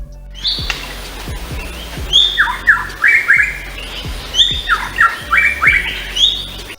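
A bird sings a lively series of bright whistles, chirps and squawks, close and loud, with a few sharp clicks mixed in.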